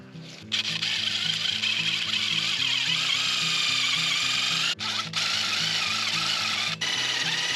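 A drill drives self-tapping tech screws into a greenhouse frame, whirring steadily and loudly with a ratcheting mechanical pulse and two brief pauses.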